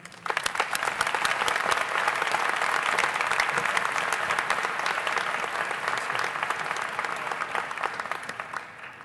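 A commencement audience at Binghamton University applauds to welcome an alumni award recipient, a sustained, dense clapping from a large crowd that stays loud throughout and thins slightly at the end.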